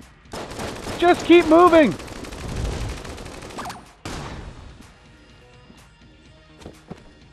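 Rapid gunfire from Enter the Gungeon crackles in a dense burst alongside electronic game tones, then a sharp blast and quieter scattered shots, with someone briefly talking over the action.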